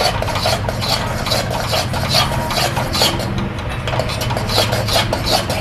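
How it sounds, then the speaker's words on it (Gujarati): Dhokli batter of flour, oil and baking soda is stirred in a pot for Kathiyawadi dhokli shaak, giving a steady rasping, scraping churn that repeats in a continuous rhythm, close and fairly loud. "હલાવતા જઈશું અને લોટ નાખતા જઈશું"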